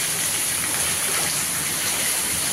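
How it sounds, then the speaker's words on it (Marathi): Steady, dense hiss of rain falling continuously, with no pauses or voices, fairly loud and even throughout. "थोडा थोडा पाऊस चालू होता"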